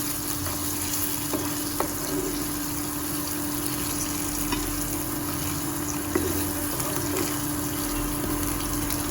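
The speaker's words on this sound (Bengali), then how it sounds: "আলুটা একটু ভাজা হলে চিংড়ি মাছগুলো আরেকবার ভেজে নেব" Potatoes fry in hot oil in a home kitchen after a tempering of bay leaf, cumin and green chilli, giving a steady, even sizzle with a few faint clicks, no voices.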